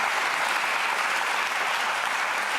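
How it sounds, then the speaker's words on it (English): Dense, loud audience applause in a television talk-show studio, a full steady roar of clapping filling the whole stretch with no break and no voices on top. "Thank you, but you don't need to applaud."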